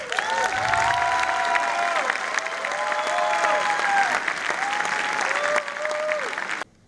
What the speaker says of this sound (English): The applause at the end of this belongs to you, Toastmaster Fahim.